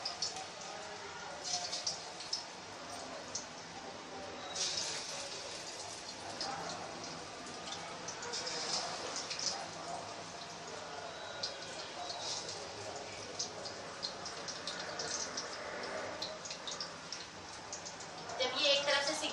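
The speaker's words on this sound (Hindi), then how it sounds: "और अब हम इसमें फिश डालेंगे। हल्की आंच पे आप इसे सेकिएगा।" Pieces of fish frying over a low-to-medium flame in hot oil give off a steady crackling and spitting sizzle that runs the whole time. A person talks over it.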